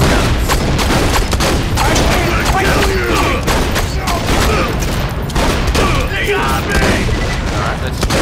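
Rapid bursts of fire machine gun shots from Borderlands 2, loud and dense, with constant crackling gunfire and booms filling the whole stretch.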